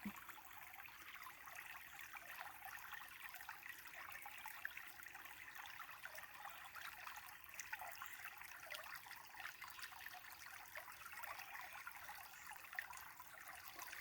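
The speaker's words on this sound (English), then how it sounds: "let's take another look at the creek before we go back up." Steady flowing water with a constant bright rush, like a creek running over rocks, continuous and unchanging with no voices.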